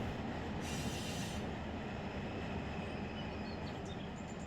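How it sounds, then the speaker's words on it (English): A freight train rolls past in the Run 8 Train Simulator video game, with a steady heavy rumble of wagons and thin wheel squeals rising above it, loud and continuous throughout. "That's the train."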